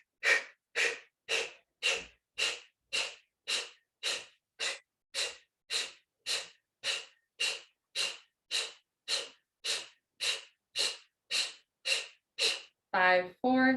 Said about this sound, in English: Kapalabhati breathing, exhale through your mouth.